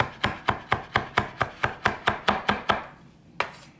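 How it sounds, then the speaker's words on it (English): A knife chops food finely on a cutting board with a rocking motion in a cooking class, about twelve crisp, evenly spaced strikes, close and clear, then a pause and one final chop. "But we're chopping it, so we want to try and get it as fine as we can."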